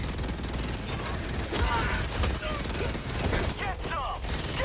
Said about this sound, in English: Airstrikes.